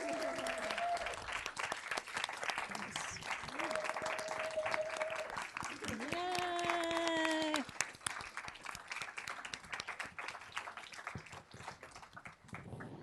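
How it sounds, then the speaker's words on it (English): A crowd applauds the founders at an anniversary celebration, scattered claps building into steady clapping at a moderate distance, with a few tones and voices mixed in. "So could the founders please stand up and let's give them a round of applause."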